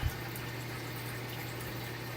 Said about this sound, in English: There's a pump that pumps mineral oil up to the top and then it drips down on the various strands of fishing line